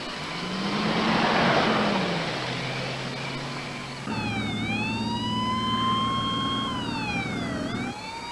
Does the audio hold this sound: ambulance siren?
yes